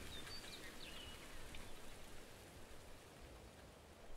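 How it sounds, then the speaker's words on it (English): Rain in the video game Ultimate Fishing Simulator at nighttime, a soft steady hiss of falling drops pattering continuously, faint and even throughout, with a couple of brief bird-like chirps early on. "Oh, and it's raining."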